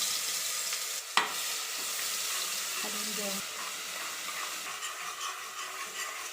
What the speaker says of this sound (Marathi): पेस्ट छान खरपूस परतून घेऊया।